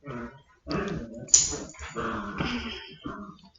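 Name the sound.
dogs playing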